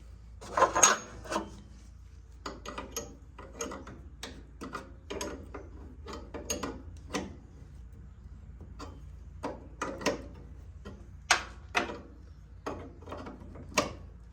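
Mechanical clicks and ratcheting taps as a tie rod end is tightened on a vintage Cub Cadet 129 lawn tractor, irregular bursts close by with quiet gaps between them.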